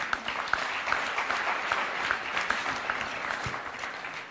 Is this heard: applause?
yes